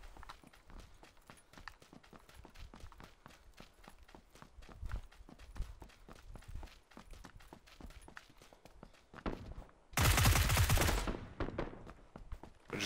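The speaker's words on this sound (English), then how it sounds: "Gunshots down the hill." Gunfire in the PUBG video game, coming from down a hill: faint distant shots crackle under a steady run of quick rapid footfalls, followed by a loud burst near the end.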